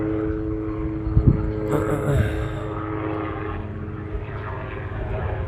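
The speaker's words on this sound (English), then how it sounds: "Oh, it's a helicopter." A helicopter's engine and rotor drone steadily overhead, a low throbbing hum that holds fairly loud throughout, with a few brief thumps near the start.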